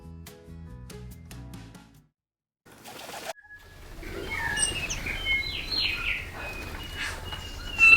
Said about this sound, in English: There were many bellbirds around